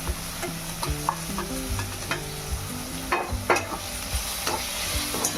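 Tomato and green chillies frying in a pan while being stirred, a steady sizzle broken by frequent scraping and clinking spatula strokes, close and fairly loud, with a faint musical tone in the background.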